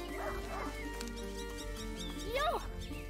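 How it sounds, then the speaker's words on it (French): A hunting dog in the video game A Plague Tale: Innocence gives short yips and whining, pitch-bending cries, one early and a sharper one near the end, over low ambient game sound with a voice talking. "Lion ! Un chien de chasse !"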